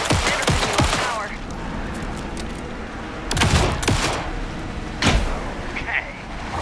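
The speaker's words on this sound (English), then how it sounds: "Anderson, pin him down with gunfire for me to get the light on him." Bursts of rapid gunfire from the Alan Wake 2 video game crackle in clusters over a steady rumbling backdrop, with a few sharper single shots and game dialogue in the mix.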